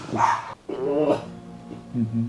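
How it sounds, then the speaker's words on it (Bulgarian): A dog barks in short, close yips and bow-wows along a road during a bicycle trip, mixed with a voice talking nearby. "Това куче, сега ли баш до тук да не лака?"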